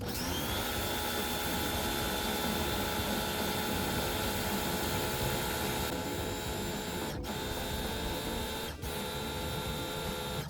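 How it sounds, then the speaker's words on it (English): A Wojett 16-inch stainless steel surface cleaner on a lower-end pressure washer runs continuously while cleaning a driveway. It gives a loud, close, unbroken mechanical whine and hiss with a couple of brief dips. "the Wojett 16-inch stainless steel pressure washer surface cleaner definitely works on a lower end pressure washer"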